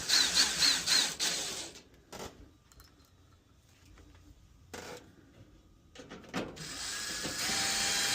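Screws are driven into the top panel of an LG dryer with a power tool. Short, loud whirring bursts open the clip, a quieter stretch of handling follows, and another sustained tool run closes it.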